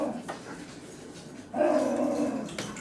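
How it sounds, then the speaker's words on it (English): A dog barks once at a moderate distance. Then a longer bark or growl follows, clearer and louder. "It's my dog."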